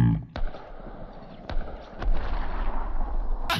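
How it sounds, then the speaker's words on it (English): Sniper shots in the Stick Fight video game land as a few sharp, booming cracks spread over a few seconds among game noise, with a voice speaking over them. "I just sniped you so hard"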